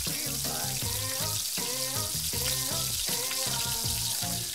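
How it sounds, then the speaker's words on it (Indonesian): Duck pieces dropped into very hot oil, crackling and sizzling steadily throughout with a dense, even frying hiss, while background music plays over it. "Terus mau langsung kita mandiin ke minyak yang super panas."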